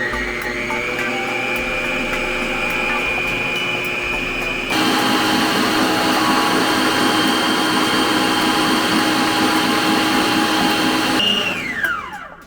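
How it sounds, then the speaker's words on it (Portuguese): An electric stand mixer whirs steadily at medium speed while beating a homemade marshmallow mixture, a loud, even motor drone that steps up in intensity partway through and winds down at the end. "Vamos colocar para bater em velocidade média"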